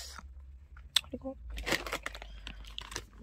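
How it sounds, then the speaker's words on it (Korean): A crunchy snack is bitten and chewed close up, with a few loud, crackling crunches and softer chewing bits, and a brief vocal sound between them. "바삭바삭해서 진짜 맛있어."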